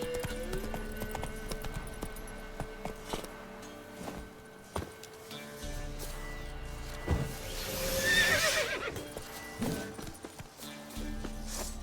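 Roach, the horse from The Witcher 3 video game, whinnies loudly near the middle of the stretch, with clip-clopping hooves and scattered footstep-like thuds around it in a busy game soundscape.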